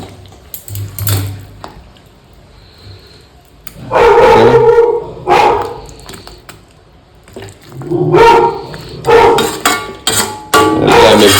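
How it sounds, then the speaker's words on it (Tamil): A pet dog barks and yelps at feeding time, loud close bursts in irregular clusters separated by quieter gaps. "நம்ம நாய்க்கு சோறு கொடுக்க டைம் வச்சு குறைக்குது"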